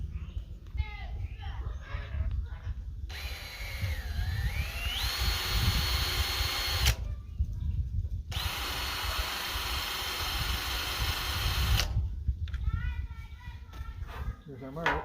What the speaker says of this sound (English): let's try this with a drill bit here and see if I can't get this in here